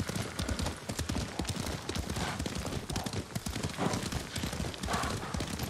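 Hooves of a horse galloping in the video game Ghost of Tsushima, a steady rapid clip-clop rhythm held throughout, loud and close, with faint voices in the background.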